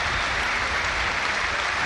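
A football stadium crowd at an Everton match applauds a substituted player, a broad, steady wash of distant clapping filling the whole short moment.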